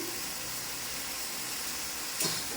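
Spice paste, ground chilli and turmeric sizzle steadily in a hot pan for a Bengali rui fish curry, a constant close frying hiss with a brief louder flare near the end.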